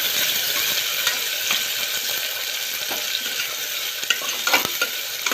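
Onion sautéing in a pan for Marathwada-style spicy masala rice, a loud continuous sizzle with occasional scraping stirs and clinks toward the end, close and without talk.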